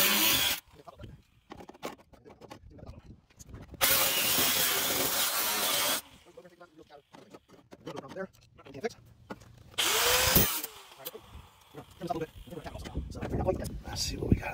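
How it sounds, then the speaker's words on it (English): A power tool cutting welds on a truck fender, loud grinding bursts lasting a couple of seconds each, separated by quieter stretches of scraping and handling noise, with someone talking at times. "I'm just kind of getting access to the welds. I'm gonna try to cut them."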